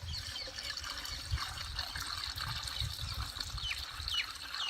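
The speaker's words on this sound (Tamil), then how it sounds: "அதுக்காக தண்ணி ஊற்றுறேன்." Water pours steadily into a 15-litre sprayer can while mixing an organic pest spray for okra plants on a farm. It makes a continuous trickling, splashing rush at moderate level, with faint bird chirps in the background.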